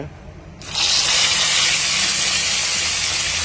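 A steady, loud sizzling hiss of bangus (milkfish) frying in hot oil starts abruptly and continues evenly, with faint voices in the background.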